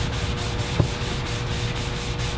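Graffiti marker scrubbed off a surface with an off-the-shelf buffing product, a close, fast, rhythmic rubbing of regular back-and-forth strokes with one brief knock partway through and no talk.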